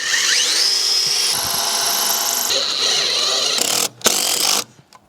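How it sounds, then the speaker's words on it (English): A loud power drill whines steadily for several seconds, its pitch shifting as it bites into wood, then cuts out abruptly with a few short bursts. "I'm gonna drill in right here where we marked."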